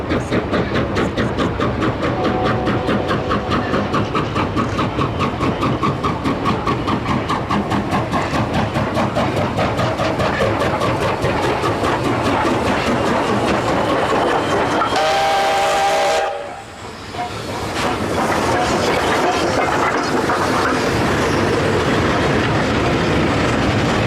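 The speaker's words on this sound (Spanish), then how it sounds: "la aparentemente inacabable procesión de trenes de mercancías con locomotoras QJ vuelve a aparecer otra vez." Freight trains hauled by QJ steam locomotives, a steady loud rhythmic chuffing and rolling of wagons with a sustained steam whistle, briefly dropping away before the heavy exhaust beats resume.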